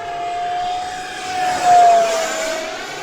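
Arrows RC 50mm T-33 hand-launch model jet flying overhead, a steady high electric ducted-fan whine that swells as it passes closest, then eases slightly as it moves off.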